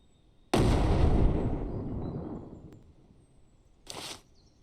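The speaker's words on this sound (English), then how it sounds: "We're also going to pipe bomb these guys instead of grenade them." Pipe bomb explosions in a shooter video game: one heavy, booming blast with a long fading rumble, then a shorter, quieter second burst after a pause.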